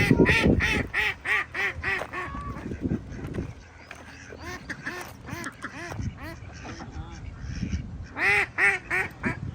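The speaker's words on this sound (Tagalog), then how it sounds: "Go see the ducks." Ducks quack repeatedly in loud, close bursts at Swan Lake in Hatta, a lively rhythm of calls with brief pauses, while a person talks quietly beneath them.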